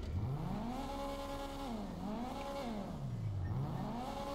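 A Honda Accord's engine in GTA 5 drones and revs, its pitch rising and falling in smooth sweeps as it accelerates and eases off, steady and moderately loud.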